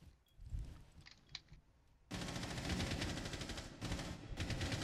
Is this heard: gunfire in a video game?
yes